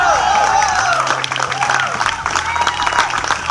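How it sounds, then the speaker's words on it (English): Audience applause and some cheering at a Heartland Tour health talk in Truro, Nova Scotia, a loud continuous clatter of clapping with a voice speaking over it throughout. "I want to give Chris a round of applause"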